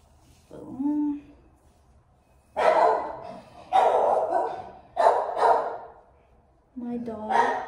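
A dog barks in several short, loud bursts close by, with a few whining, yelping calls mixed in between the barks and pauses of quiet.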